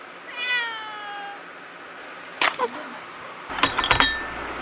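Cats meow at an island-top campsite: a clear, drawn-out meow near the start, followed by clinking and rustling knocks and a short burst of sharp clatter toward the end.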